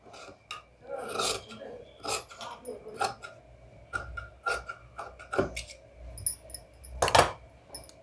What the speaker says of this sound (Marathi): आता हा गोल राऊंडचा आपण शेप दिला तो असा कापून घ्यायचा